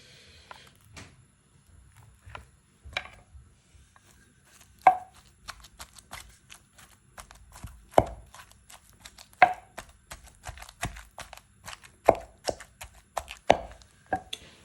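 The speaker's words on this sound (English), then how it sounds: "I've peeled and cut them up so that it's easy to pound." Peeled, cut plantain pieces pounded in a mortar with a pestle: sharp, irregular thuds that start sparse and soft, then grow louder and more frequent, close by with no talk.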